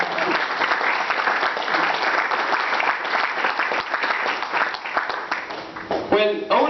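Audience at a wedding speech claps steadily in a dense, even wash of applause, fairly close and loud, with a voice briefly cutting in near the end.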